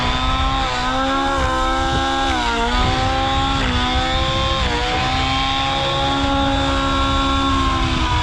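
A SAB Goblin Raw 700 nitro RC helicopter engine runs at half throttle, a loud, steady, close buzzing whine with strong harmonics that wavers slightly in pitch, alone with no talk.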